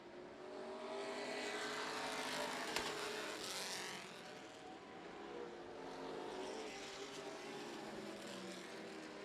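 Race cars lapping at Houston Motorsports Park, a sustained engine roar that swells as cars pass and then eases into a steady distant drone.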